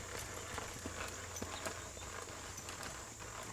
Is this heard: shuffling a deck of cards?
no